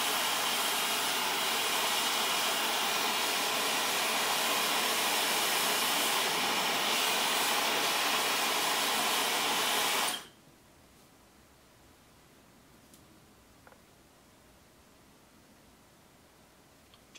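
A Dyson Supersonic hair dryer blows heat onto a round brush in a steady, loud, breathy rush for about ten seconds, then cuts off abruptly, leaving quiet room tone.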